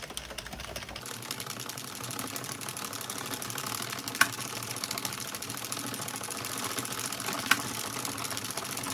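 An Addi Express knitting machine is cranked steadily, a continuous close mechanical clatter and whir at even speed, with a couple of sharp clicks along the way.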